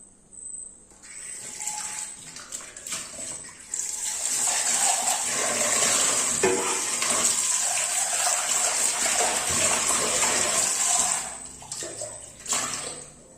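A steel pot is washed under a running tap, with water gushing and splashing steadily for several seconds at close range, starting and stopping with brief clatters at the ends.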